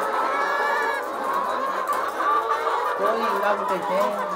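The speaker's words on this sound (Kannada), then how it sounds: "ಇದ್ಯಾವುದೋ ಬೇರೆ ಕೋಳಿಗಳು ಥರ ಇದ್ದಾವೆ" Chickens clucking and squawking close by in a busy chorus on a chicken farm during egg collection, with a low voice murmuring underneath.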